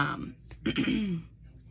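A short throat-clearing cough, close and fairly quiet, followed by a brief rough vocal rasp.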